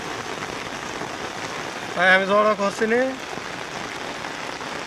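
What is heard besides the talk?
rain falling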